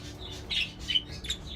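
Friendly pet birds kept in a quiet indoor aviary, giving several quick, close chirps and squawks at irregular moments over a low steady background hum.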